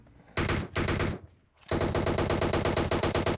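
Rapid automatic gunfire in PUBG Mobile, loud and close, with two short bursts, a brief pause, then a long sustained stream of shots.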